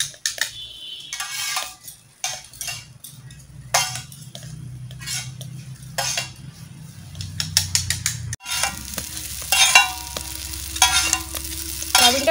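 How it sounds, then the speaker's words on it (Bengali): Chow mein egg noodles frying on a hot tawa, continuous sizzling with frequent spatula scrapes and occasional metallic clinks, the stirring growing busier and louder toward the end, no one speaking. "চাউমিনটা খুব ভালো করে আমি তাওয়ার মধ্যে ফ্রাই করে নেব।"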